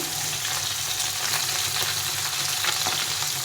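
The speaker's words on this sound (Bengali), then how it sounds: "মাছগুলো এক পাশটা ভাজা হয়ে গেছে" Fish sizzling as it fries in oil in a pan for a Bengali pointed-gourd curry, a steady, close, crackling hiss that runs throughout with no talking.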